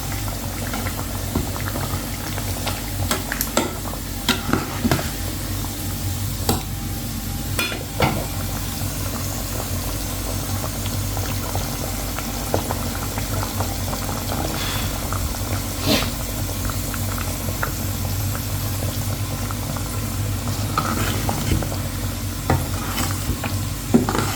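Curry leaves fry in hot oil for a Jaffna-style mutton curry, giving a steady bubbling sizzle with occasional stirring clicks from the pan, close and continuous.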